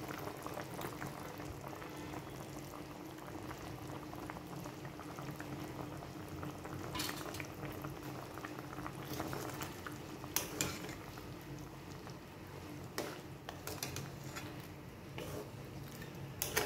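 Chicken korma simmering with milk, fried onion and cashew paste, a steady close bubbling boil throughout, with occasional louder clatters and stirring scrapes rising over the constant liquid burble.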